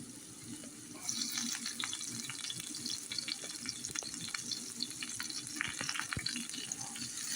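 Garlic frying in a pan for a spaghetti sauce, giving a steady close sizzle with scattered crackles and light stirring clinks, no talking.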